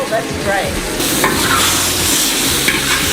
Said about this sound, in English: Oh, you hear that nice sizzle?